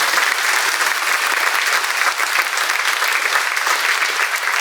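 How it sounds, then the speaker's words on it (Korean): A church congregation applauds to give glory to God during a worldwide Remnant conference lecture, a sustained, even roar of many hands clapping that stays steady from start to finish with no voices over it. "하나님께 영광의 박수를"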